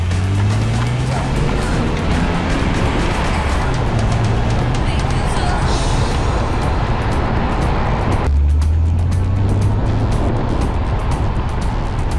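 A BMW M3 E46 drives with a steady engine drone and road noise, the engine note dropping sharply midway as it slows under braking, then pulling again.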